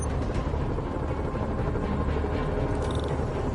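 A continuous whirring, chopping helicopter drone in the video game Marvel's Spider-Man fills the scene, steady and fairly loud, without talk.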